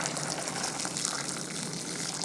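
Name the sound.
water being poured into a bowl of herbs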